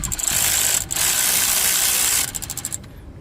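A ratchet works loose the last bolt of a power steering pump on a 1992-1996 Ford F-150 with the 4.9L engine, giving loud, close, rapid metallic clicking in bursts with a short pause and then quicker clicks fading out.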